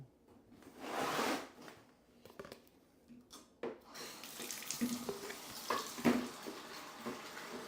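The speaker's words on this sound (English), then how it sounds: "you're hearing singing in an echoey bathroom while I fill up water jugs" Water runs from a tap into water jugs, with splashing and shifting pitch as they fill, plus some clinking and faint background singing in a reverberant bathroom.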